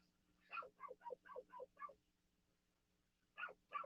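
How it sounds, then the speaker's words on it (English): Dogs bark outside, heard faintly through a wall as a rapid burst of about seven sharp barks, a pause, then two more barks, with a steady low hum underneath. "I don't know if you guys can hear my damn dogs outside going crazy."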